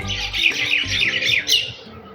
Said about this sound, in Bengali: পাখিগুলো একদম কিচিরমিচির করছে